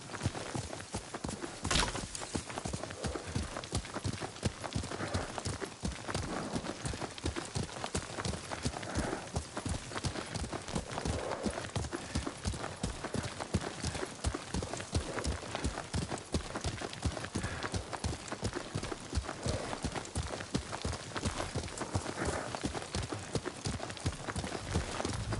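In Ghost of Tsushima, a horse's hooves clip-clop in a steady, quick rhythm during riding, continuous and close throughout.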